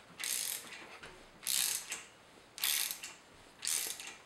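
A ratchet tool drives a spark plug thread repair insert into a Porsche 911 engine, giving four crisp clicking ratchet bursts, each about half a second long with short pauses between, close and clear.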